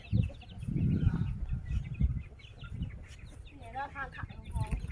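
Chickens cluck and squawk in a series of short calls, fairly close, with a rough low rumble of background noise.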